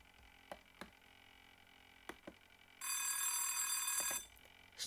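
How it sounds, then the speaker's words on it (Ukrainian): A bright electric school bell rings continuously for about a second and a half amid a few soft knocks and taps, fairly quiet and somewhat distant. "А ще звук шкільного дзвіночка."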